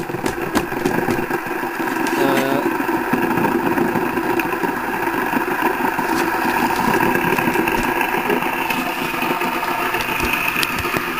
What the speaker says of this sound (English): it's running a whole lot faster, gaining a lot more speed